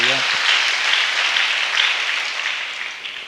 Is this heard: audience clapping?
yes